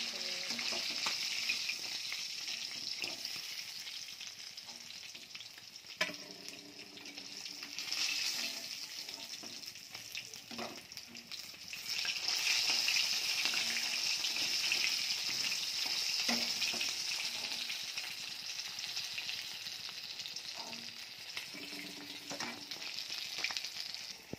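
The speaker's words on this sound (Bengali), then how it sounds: "ভাজা হয়ে গেছে মাছগুলো" Pieces of catla fish frying in hot oil, a steady dense sizzle and crackle with occasional bubbling bursts and clinks from stirring, loud and close, continuing without speech.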